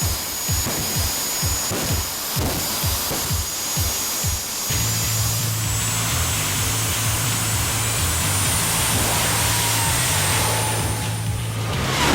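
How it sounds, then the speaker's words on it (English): A jet dragster engine pops in several sharp bursts, then settles into a loud, continuous roar with a steady high whine, close and overwhelming, at a drag race. "And we close out Q1 with the crowd-pleasing jets."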